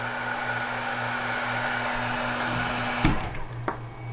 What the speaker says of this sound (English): that blower tool, the heater tool, heat gun, likes to cool itself off. So it's a little loud